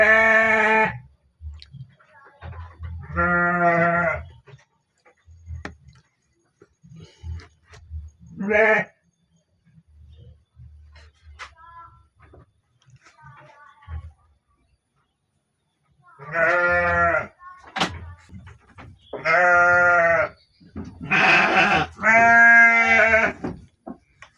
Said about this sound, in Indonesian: Suasana di kandang domba tah enak